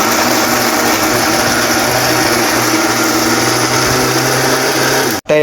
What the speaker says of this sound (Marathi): हे आपण सगळं मिक्सरमध्ये बारीक करून घेऊ